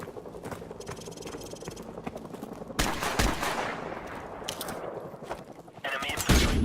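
Covering gunfire in Call of Duty Modern Warfare, dense rapid automatic shots crackling continuously, growing louder and heavier midway with sharp bursts near the end, close, with a voice briefly under the shooting.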